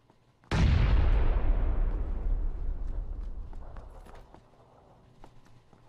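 A grenade goes off close by in the battle royale game PUBG, giving one loud, deep boom that rumbles and fades over several seconds, followed by a few faint distant pops.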